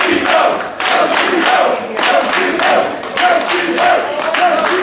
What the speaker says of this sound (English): And he hears it from the crowd here in Fall River.